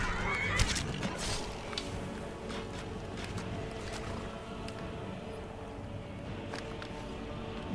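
A horse in Skyrim gives a shrill neigh near the start, followed by a few sharp hoof or impact clatters over a low, steady ambient game background, fairly faint overall.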